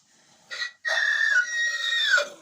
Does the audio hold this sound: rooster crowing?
yes